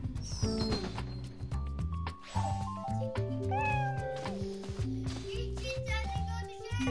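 A cat meowing and caterwauling in a game, several drawn-out plaintive cries over busy tonal game music and chimes, loud and close throughout.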